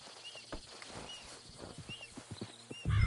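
Soft clip-clop of horse hooves at a steady walking pace in the video game Red Dead Redemption 2, fairly quiet and close, with a louder thump at the very end.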